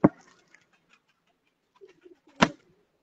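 An old, black-faced Sialkoti pigeon gives a few faint, low coos, set between two sharp, louder knocks near the start and end.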